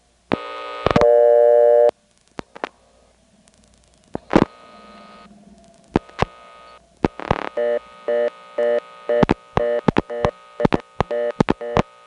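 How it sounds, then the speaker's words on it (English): A telephone busy signal is superimposed on a blocked-level callback circuit at a 1977 step-by-step exchange in Windsor, North Carolina, with long tones, clicks, and a later run of regular pulsed beeps, loud and close. "dial a blocked level, and then superimpose the busy signal on top of it"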